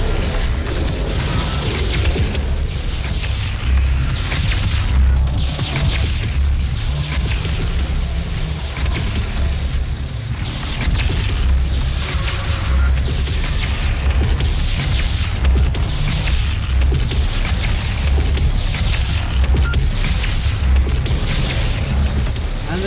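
BFG weapon fire in Doom 2016: a dense, loud and continuous wash of booms, crashes and whooshes, with repeated blasts and mechanical clatter all the way through and no speech.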